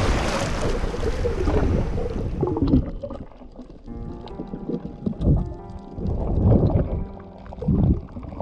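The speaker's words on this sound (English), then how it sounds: "Some big waves coming" Big ocean waves wash and surge around someone in the sea near coral, a loud rushing roar that fades into choppier sloshing water with several swells.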